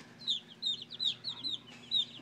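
Chickens being fed moths cluck in a quick series of about six short, bright calls, fairly close and moderately loud over a quiet background.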